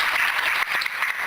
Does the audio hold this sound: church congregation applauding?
yes